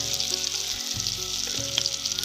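Onion, dried red chillies, black cumin and cumin seeds frying in mustard oil, a loud steady close-up sizzle and crackle with small pops, heard without any talking.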